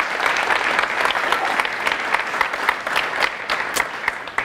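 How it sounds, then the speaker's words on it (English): Steady, dense applause from a conference audience at an app developers' event, many hands clapping at close range for the full stretch with a few sharper claps standing out and no talking. "please give a warm round of applause to the organizers and everyone involved for doing this"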